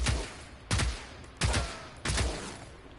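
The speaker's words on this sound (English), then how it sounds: "what it makes up for in rate of fire, it makes up for in damage, and it uses incendiary ammunition" Incendiary-ammunition gun in the video game Generation Zero fires four heavy, evenly spaced shots, each a loud sharp blast with a long ringing tail, alone with no talk.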